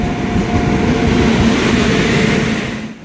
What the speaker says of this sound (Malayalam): ഒരു ട്രെയിൻ ലൈറ്റൊക്കെ ഇട്ട് അവിടെ നിന്ന് വരുന്നുണ്ട്.